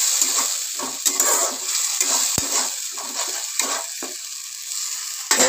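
Spices sauté in a pan for a spicy egg curry, giving a bright, dense sizzle with repeated scraping strokes of a spoon and a few sharp metallic clicks against the pan, close up and with no voices.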